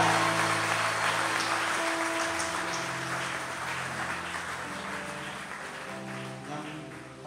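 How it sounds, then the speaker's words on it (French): A church congregation applauds at a dedication service, a steady wash of clapping over sustained keyboard or organ tones that fades slightly toward the end. "Applaudissez le Seigneur."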